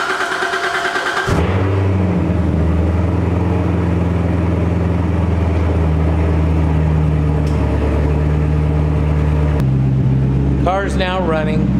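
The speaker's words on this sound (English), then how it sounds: "So I'm gonna start the car" A car engine cranks and catches, then settles into a steady, close idle with a low hum that dips briefly near the end. A voice speaks over it at the finish.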